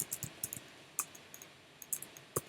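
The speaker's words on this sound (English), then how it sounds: "I'm typing here description." Keys are typed on a computer keyboard while entering a vendor bill in accounting software, giving sparse, close, crisp clicks in small bursts with quiet gaps.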